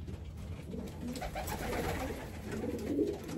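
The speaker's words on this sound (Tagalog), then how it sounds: "So baka nag-aaway ng mga ibon natin." Young racing pigeons coo and scuffle close by, a run of low throaty calls with wing flutters overlapping in a brief agitated exchange.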